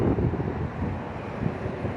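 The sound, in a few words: wind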